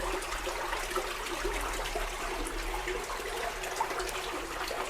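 Water runs steadily beneath Catania cathedral in Sicily, a continuous rushing and trickling wash that holds an even level throughout with no voices over it.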